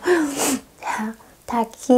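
A single sharp sneeze bursts out near the start, followed by breathy vocal sounds and short bits of a man's speech close to the microphone.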